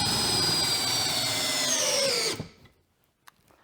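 A DeWalt DCD708 Atomic 20-volt cordless drill running on a 5 amp-hour battery whines loudly and steadily up close for over two seconds, its pitch sagging slightly before it stops abruptly, followed by a few faint clicks.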